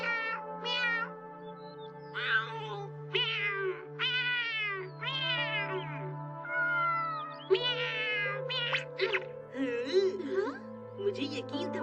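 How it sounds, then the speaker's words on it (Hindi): Cartoon cat meowing repeatedly in a series of short, insistent calls over a steady background hum, with children's voices chattering between and over the meows. "हमें उस बिल्ली को पकड़ना चाहिए, समझे?"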